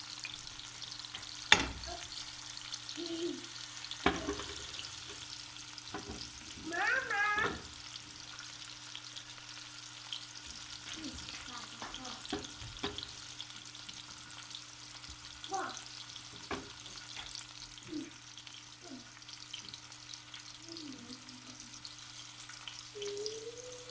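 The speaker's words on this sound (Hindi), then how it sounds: "प्याज, लहसुन, अदरक ये तीनों फ्राई कर लें।" Onion, garlic and ginger fry gently in a pan over low heat, giving a soft, steady sizzle with occasional stirring clicks and scrapes, fairly quiet and without any talking.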